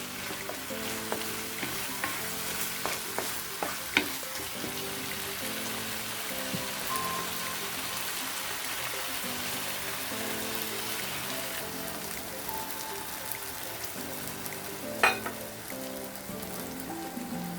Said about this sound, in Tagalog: Haluin ko muna siya.